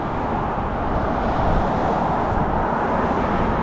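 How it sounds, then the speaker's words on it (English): Road traffic comes up behind an e-biker on a Fort Myers Beach road with no bike lane, a steady, dense rumble of passing vehicles blended with wind, filling the short stretch without a break. "so I've got traffic coming up behind me"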